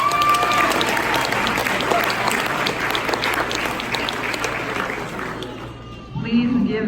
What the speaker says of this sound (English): Please give this great group of communicators a round of applause.